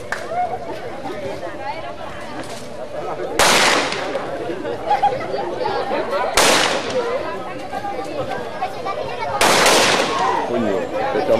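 Gunfire at a Burning of Judas celebration in Cabimas, Zulia, Venezuela: three loud, sharp bursts of shots ring out a few seconds apart over a steady crowd murmur, with voices chattering nearby.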